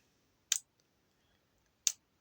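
Two sharp, bright clicks about 1.4 seconds apart from a button on a Flysky FS-i6 radio transmitter switching a relay, each brief and close against a quiet background.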